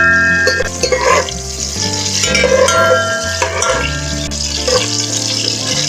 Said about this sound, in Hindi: अब हम इसे थोड़ा सा फ्राई करेंगे।